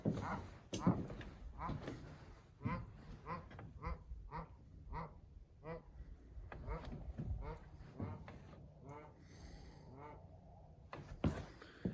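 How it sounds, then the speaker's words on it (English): Several geese honk in short bursts, some near and some farther off, scattered across a quiet outdoor backdrop in Colorado. "Cannot hear like a single sound except a couple of geese."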